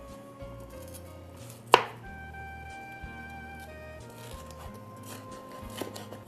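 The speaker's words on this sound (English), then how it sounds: "We'll take the pulp out and we'll just cut them, julienne cut" Knife julienne-cutting pulp-free colored bell peppers into strips on a board, one sharp chop followed by softer quiet cuts over faint background music.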